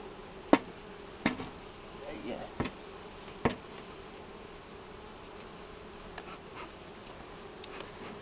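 Buckfast honey bees around a hive in August, a soft continuous buzzing with scattered sharp ticks and clicks from work at the hive, and no voices.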